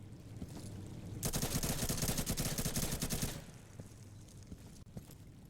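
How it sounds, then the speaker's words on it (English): Burst of automatic fire from an AKS rifle loaded with armor-piercing rounds in the Insurgency shooter game, a dense rattle of shots for about two seconds, then quieter ambient game noise with a single faint crack near the end. "That was AKS with AP ammo."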